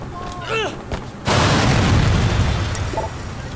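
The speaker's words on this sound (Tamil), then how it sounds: "காரை வெடிய வச்சிட்டாங்களே" A car blows up in the video game Sleeping Dogs with a sudden loud, broadband blast that rumbles and roars for a couple of seconds, after a short stretch of voices.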